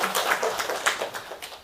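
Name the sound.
church congregation clapping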